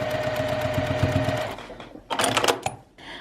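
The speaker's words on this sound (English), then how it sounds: "sew 1/4 inch right down the center" Sewing machine stitching a quarter-inch seam down the center of a quilt heart block, a fast close rhythmic whir for about a second and a half, then short bursts of clattering stitches.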